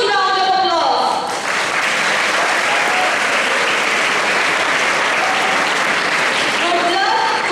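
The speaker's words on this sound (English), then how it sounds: "Let's show our appreciation for their contributions to our debate competition with a huge round of applause." Audience at a school debate competition breaking into dense, sustained applause, loud and steady throughout, with a voice briefly heard at the start and end.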